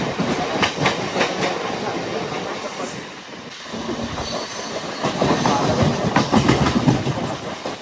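Rajdhani Express 22691 to Hazrat Nizamuddin rushing past near Bibinagar station, with a loud, sustained rumble and rhythmic clickety-clack of wheels that swells toward the end, with no talk.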